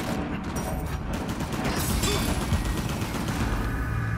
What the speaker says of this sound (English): As soon as I heard everybody else shooting, I started shooting